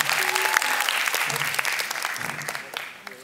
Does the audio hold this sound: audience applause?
yes